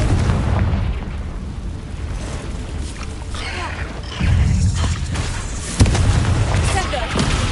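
A Confringo blasting spell exploding in the Hogwarts Legacy video game, heavy booming blasts and crashing rumble near and loud, with fresh impacts around four and six seconds under dense game noise.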